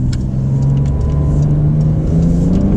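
A 2021 Porsche 992 Turbo drives hard along twisty roads, its engine loud and close with a steady drone that climbs slowly in pitch under continuous road rumble.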